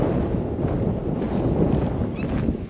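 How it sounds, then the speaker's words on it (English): Strong wind buffets the microphone in the car park at Land's End, a loud, continuous low roar with gusty swells throughout and no speech. "It is really windy."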